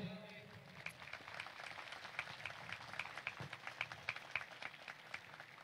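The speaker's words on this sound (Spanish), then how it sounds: "Un aplauso para nuestra Madre." Congregation clapping during a festive Mass for the Virgin of the Candelaria, steady many-handed applause heard from a distance, faint overall, with a few sharper claps standing out.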